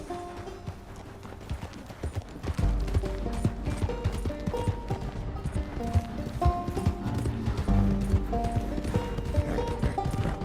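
Horse hooves clip-clop in the video game Red Dead Online, a steady rapid stream of hoofbeats with mechanical clicks and game music underneath.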